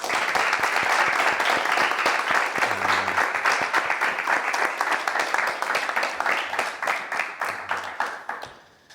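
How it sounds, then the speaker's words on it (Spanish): Sustained applause from a crowd, dense steady clapping that rolls on for several seconds before tapering off at the end. "Aplauso."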